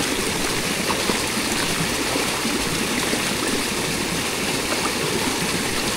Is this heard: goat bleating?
no